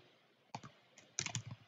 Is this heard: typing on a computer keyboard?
yes